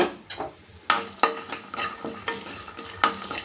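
Peanuts fried in a pan with dried chilies, coriander seeds, cumin and garlic, a low sizzle broken by repeated sharp clinks and scrapes of a spatula against the metal pan at an uneven rhythm.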